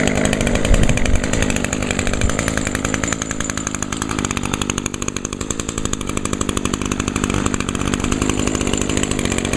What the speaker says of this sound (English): in this trimmer I'm running the Craftsman Extra Quiet string